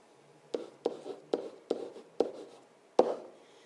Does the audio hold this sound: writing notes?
yes